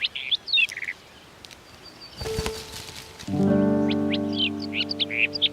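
Barred warbler singing on sunny limestone slopes of the Bohemian karst, bursts of scratchy chirps at the start and end, with a brief rustle and a sustained buzzy, harmonic drone in the middle.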